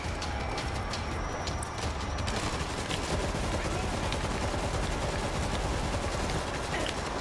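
A minigun blazes away in the zombie shooter World War Z, a dense, continuous roar of rapid gunfire filling the whole stretch at steady loudness, with a voice talking faintly underneath.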